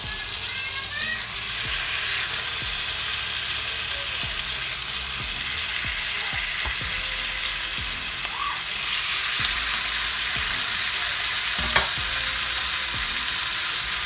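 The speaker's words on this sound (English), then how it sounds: "now that my butter is melted, I'm gonna go ahead and add my beef to it." Beef sears in melted butter in a skillet on the stovetop for a pot roast, making a loud, continuous frying hiss with scattered pops and crackles throughout, and no talking.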